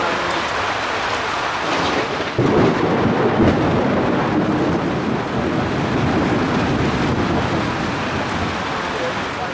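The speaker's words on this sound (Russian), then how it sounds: "Это уже настоящий гром тропического ливня" Thunder from a tropical rainstorm in Vietnam rolls in with a low, heavy rumble over steady, loud rain pattering on surfaces, continuing without letup.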